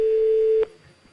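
A telephone tone on an Italian radio show, a steady loud electronic tone that cuts off abruptly, leaving a faint hum behind.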